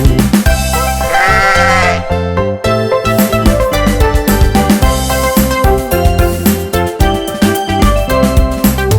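A voice sings a wavering, bleat-like sheep call over bouncy children's nursery-rhyme music, imitating a sheep rather than a real animal.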